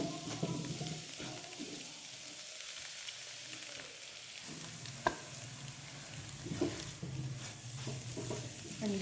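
Eggs frying in a pan for restaurant-style Chinese fried rice, a steady soft sizzle with occasional spatula scrapes and pops, close and fairly quiet, no talking.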